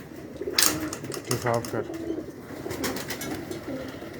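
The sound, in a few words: pigeons cooing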